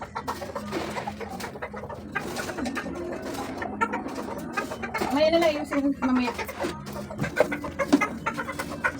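Chickens cluck and coo nearby among other bird calls, while a person speaks briefly over them.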